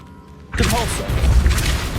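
A Depulso spell strikes in Hogwarts Legacy: a quiet lead-in, then a loud, sudden burst around the half-second mark gives way to a sustained whooshing, rumbling impact with a brief rising tonal swirl.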